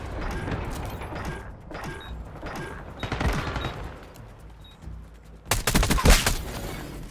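Rapid bursts of Goblin MK2 assault rifle fire in Black Ops 6 multiplayer, several short automatic volleys with sharp cracks, ending in a louder, denser flurry of shots and impacts near the end.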